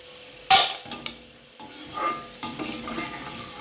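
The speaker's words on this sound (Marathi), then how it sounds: "ही डाळ पूर्णपणे छान अशी तेलामध्ये तळली गेलेली आहे आता आपण झारीच्या साह्याने पूर्णपणे तेल निथरून थोडी थोडी काढून घेणार आहोत" Chana dal deep-frying in hot oil, lifted out with a slotted spoon: a sharp burst of sizzle, then steady bubbling with metal scrapes and clinks from the spoon against the pan, close and fairly loud, with no talk.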